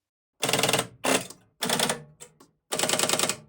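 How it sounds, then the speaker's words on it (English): Rapid mechanical clattering and ratcheting in four short bursts with pauses between from moving Strowger telephone exchange selectors, electromechanical stepping switches, loud and close. "Let me show you the movement of the selectors in my Strowger system"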